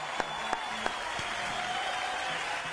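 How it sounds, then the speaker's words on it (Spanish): Warm applause from a television studio audience welcoming guests on a Chilean talk show, a steady broadband patter of clapping with a few sharper individual claps standing out near the start. "los vamos a recibir con un caluroso aplauso"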